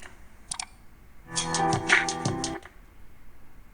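One crisp click sounds, then after a pause a brief burst of rapid ticking with a tonal hum, close and clear.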